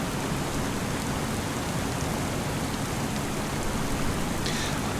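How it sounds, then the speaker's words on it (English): Steady rainfall in Farming Simulator 25, a dense, even hiss of drops on surfaces filling the whole stretch at constant loudness, with no talking. "So right, it's raining."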